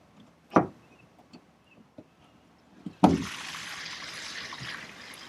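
An RV gray water tank drains through a flush hose: after a couple of sharp clunks, water suddenly rushes in a steady hiss and gush that continues to the end.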